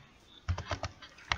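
Keys on a computer keyboard tapped about five times in quick, uneven succession while entering HTML code, close and fairly quiet, with no talk.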